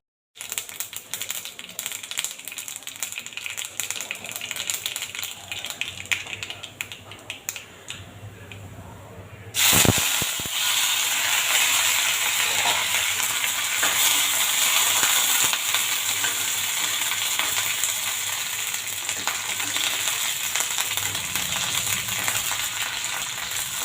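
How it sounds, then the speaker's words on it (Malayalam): Hot tempering poured into a simmering cucumber curry bursts into a loud, steady sizzle that holds on continuously after a quieter stretch of crackling and clinks. "ഇനി നമുക്ക് വറ പൊട്ടിച്ച് അതിലോട്ട് ചേർക്കാം"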